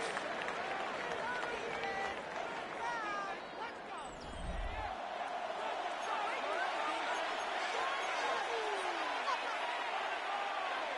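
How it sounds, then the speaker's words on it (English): Stadium crowd in a Madden 26 NFL football video game, Commanders versus Browns, roaring steadily as the offense lines up for third down, a dense continuous crowd swell that stays loud for the whole stretch. "This crowd into it now as we get to 3rd down."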